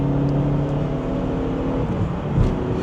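An underpowered Chevrolet Spark engine hums and revs up steadily from inside the cabin, a droning, slightly strained whir with no voices.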